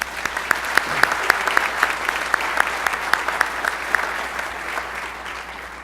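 An audience at a high school National Honor Society induction ceremony applauds the new inductees, with steady sustained clapping from a crowd that keeps going evenly at moderate volume.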